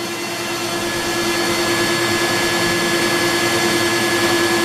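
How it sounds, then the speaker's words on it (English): An X-Carve CNC router cuts a wooden plaque inside a silencing box while a shop vac runs, making a loud, steady broadband roar with a constant whine that builds slightly, and no voices. "I am cutting another verse, another plaque."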